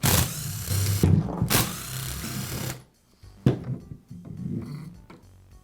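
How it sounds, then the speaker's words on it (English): A cordless DeWALT drill runs in loud, steady whirring bursts as the screws holding its gear case to the motor housing are backed out. The sound pauses briefly, then gives way to a quieter stretch with a sharp click or two. "Now I'll remove the screws that secure the gear case to the motor housing."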